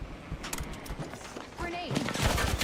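Video game gunfire rattles in bursts close by, building louder toward the end, mixed with game sounds and a voice speaking in the middle of the action.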